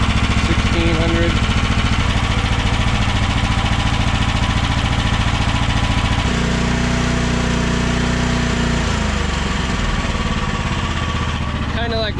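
The small engine of an AGT QH12 mini excavator runs steadily and loud up close, its pitch shifting as the throttle is set to about 1600 RPM, with a voice speaking briefly over it.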